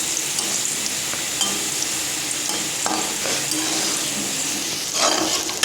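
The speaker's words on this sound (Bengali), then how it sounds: "পেঁয়াজটা দেখো লাল লাল করে ভাজা ভাজা হয়ে গেছে" Chopped onions frying in oil, a steady close sizzle broken by scraping stirs and a louder splashy burst near the end, with no talking.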